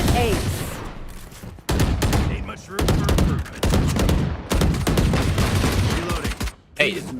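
Rapid Valorant gunfire crackles in dense bursts and single shots close up, with brief gaps and player voices talking between the volleys.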